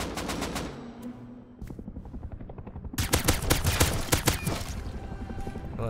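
Guns fire in the video game Rust in rapid automatic bursts of sharp cracks, loud and close, with a short lull before a denser barrage toward the end.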